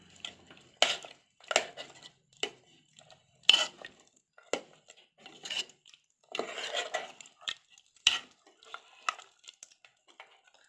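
A spoon scrapes and clinks in a metal pot while ground masala paste is stirred into cooked mutton, in irregular bursts of scraping with quiet gaps between them, heard close up.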